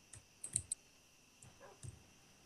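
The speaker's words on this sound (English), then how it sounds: "it's just like, so many mouse clicks." Computer mouse clicks during Minecraft play on a server, a few quick close clicks in small bursts, some doubled or tripled, crisp and faint over a quiet room hum.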